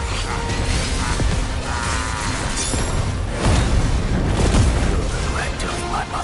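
A mortar bombardment in the video game Final Fantasy XVI: loud, dense booming blasts with crackling debris and whooshes roll on without a break, heavy throughout and swelling midway.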